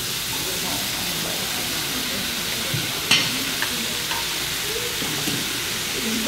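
Vegetables stir-frying and steaming in a hot pan give off a loud, continuous sizzle and hiss throughout, with a few small clicks and scrapes from stirring.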